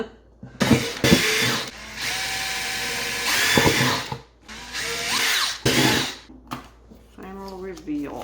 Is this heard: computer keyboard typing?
no